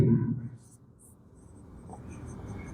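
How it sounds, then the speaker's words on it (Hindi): Pen scratches across paper at a slow, quiet pace while someone speaks at the start, during maths working for a class-10 Euclid division problem. "तो हम लिखेंगे यूक्लिड"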